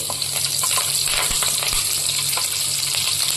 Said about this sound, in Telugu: ఇప్పుడు ఆయిల్లో కొంచెం ఫ్రై మనం వీటన్నిటిని ఆయిల్లో ఫ్రై చేసుకుందాము. జీడిపప్పు, పచ్చిమిర్చి,